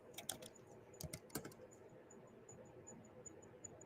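Computer keyboard keys tapped in short bursts while entering terminal commands, a few quick clicks up close, then sparse isolated keystrokes over quiet room hiss.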